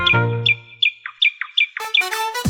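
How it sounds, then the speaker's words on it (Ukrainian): Small birds chirping in a sunny garden in a children's cartoon: a quick series of bright, high tweets and short squawks in an irregular rhythm, clear and close, ending in a busier flurry of calls. "пташки щебетали"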